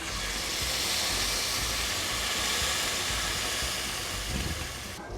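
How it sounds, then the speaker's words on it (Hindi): Steady loud hiss and sizzle as about a kilo of milk is poured into vermicelli roasting in a hot pan for sheer khurma, a continuous close rush of steam throughout. "इसके अंदर हम तकरीबन 1 किलो के करीब दूध डाल देंगे"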